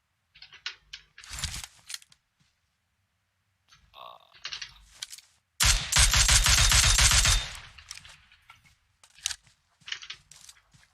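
Gunfire in the PUBG Mobile video game, short clusters of rapid shots and one loud sustained burst of automatic fire near the middle, close, with quiet gaps between, and talk heard nearby.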